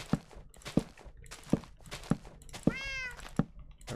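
A cat meows loudly once from somewhere close behind a wall, a drawn-out rising and falling call standing out over a steady rhythm of repeated low thumping footsteps.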